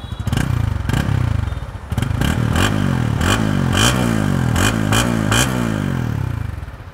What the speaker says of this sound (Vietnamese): Cái tiếng ống xả mới của WinX này rất ấn tượng các bạn ạ.